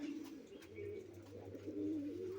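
Pigeons coo softly and repeatedly in a loft where a hen pigeon drinks water, a low rolling murmur that is faint and continuous, with no talk.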